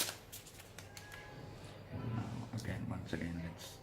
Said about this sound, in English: Give me a nice shuffle.